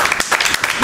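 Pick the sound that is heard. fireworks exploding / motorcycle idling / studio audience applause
studio audience applause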